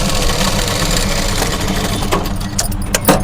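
A sewing machine stitches a folded lining for a blouse, running as a steady, close, continuous mechanical whir for the whole stretch, with a few brief clicks and taps near the end.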